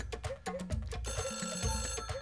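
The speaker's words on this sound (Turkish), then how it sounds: "Dudu, Eda, biriniz telefona bakın. Duymuyor musunuz?" A telephone bell rings in a domestic sitcom scene, its steady repeating trill filling the whole short stretch, loud and close with no talk over it.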